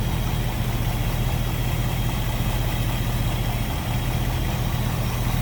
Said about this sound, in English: I'm going to slip up to the front, let you hear this engine run